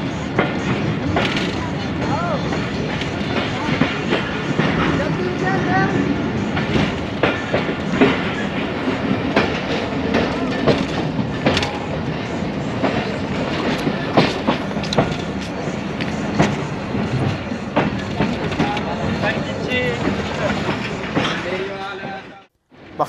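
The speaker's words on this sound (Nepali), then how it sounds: "दो बजे से कुछ पहले ट्रेन बख्तियाराबाद डोमकी रेलवे स्टेशन पहुंच गई।" Jaffar Express passenger train on the Sukkur to Quetta line running steadily, with continuous loud rumbling and rhythmic clickety-clack of wheels on rail joints throughout, a few sharper clanks, ending abruptly.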